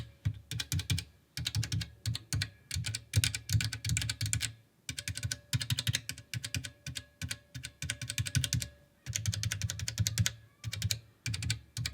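Fast, steady typing on a home-built mechanical keyboard without keycaps, dense clacking bursts broken by brief pauses, close and clear with no talk.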